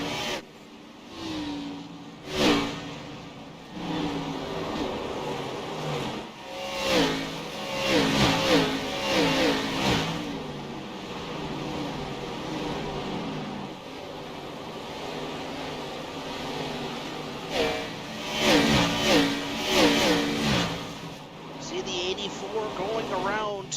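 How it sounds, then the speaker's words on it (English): Stock cars race past at Nashville during a Mid Atlantic Racing Series playoff race, engines roaring and fading in repeated passes, some near and loud, with announcer-style talk over the track noise. "listen to these cars just to fly by here at Nashville"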